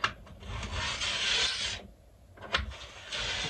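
A hand file works along a ski's metal edge during an edge tune, making close, rasping strokes that run long and even, with a brief pause before the filing picks up again; no speech.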